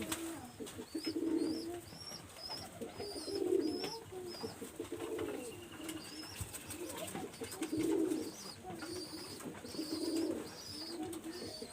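Pigeons of a master pair with red throats coo in low, rolling phrases that repeat every couple of seconds, close by, with higher chirps from other birds in the background.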